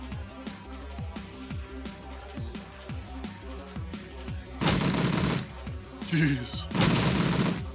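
Turret gunfire in the video game Shadowrun Returns, rapid rhythmic bursts of shots with deep thuds, broken by two loud noisy blasts, while a man briefly reacts.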